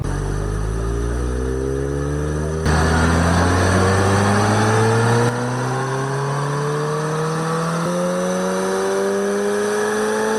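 A Mini Cooper S at wide-open throttle on a mobile rolling road dyno, its engine note climbing steadily in pitch through a long loud run with a couple of shifts in tone, no voices.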